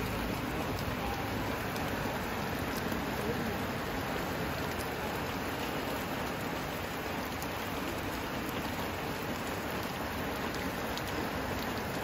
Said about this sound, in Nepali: हाम्रो बेसिनमा चाहिँ पानी परिरहेछ